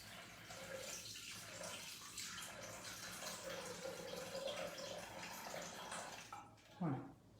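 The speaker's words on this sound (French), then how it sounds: "De mettre 500 g d'eau." Water poured into a Thermomix bowl for steaming green beans, a steady, gentle splashing stream running for several seconds at low level, ending with a short bump.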